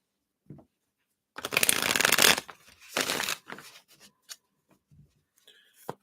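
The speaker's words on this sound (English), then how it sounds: "Let me just give these a shuffle here." Tarot cards are shuffled close up in two loud riffling bursts, followed by a few softer taps and flicks of the deck.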